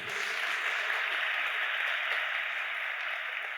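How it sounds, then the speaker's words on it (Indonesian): A church congregation at a Kingdom Celebration service applauds in a steady, moderate patter that holds evenly from start to finish, fairly distant and without cheering. "Tepuk tangannya kok nanggung gitu."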